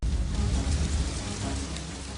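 Heavy rain pours down in a dense, unbroken hiss, steady and loud throughout with a low rumbling undertone, evoking a toxic downpour on another planet.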